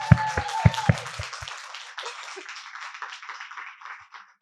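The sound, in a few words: audience applause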